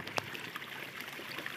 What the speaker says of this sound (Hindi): बोरिंग से पानी निकल रहा है